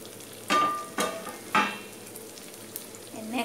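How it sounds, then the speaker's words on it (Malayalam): Chicken roast frying in a pan, stirred with a utensil: three loud scraping stirs in quick succession, then a quieter stretch of low sizzle with a faint clink and another stir at the end. "വീണ്ടും ഇത് തുറന്നിട്ട് ഇളക്കി കൊടുക്കാം."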